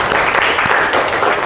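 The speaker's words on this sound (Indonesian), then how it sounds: "kita beri aplaus untuk kelompok 1." Classroom applause for the first student group after its presentation in an Islamic religious education teaching-practice lesson: dense, steady clapping from many hands, loud and continuous throughout, with no voices on top.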